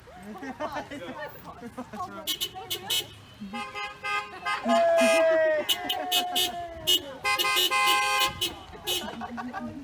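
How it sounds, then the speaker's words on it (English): A car horn honks at a street parade, sounding in repeated short toots and a few longer blasts, loud and close, with people talking and laughing around it. "worst horn ever"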